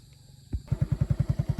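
A motorcycle engine starts close by and settles into a rapid, regular chugging thump, loud and unaccompanied by voices.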